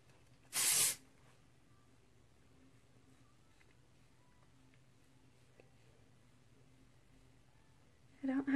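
Hairspray is sprayed onto a pixie cut in one short, loud hiss lasting under a second, with another brief burst starting near the end and quiet room tone between.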